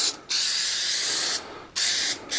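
Super 77 spray adhesive hisses out of an aerosol can in two bursts onto the back of a template, one long and one short, loud and close with a brief gap between them.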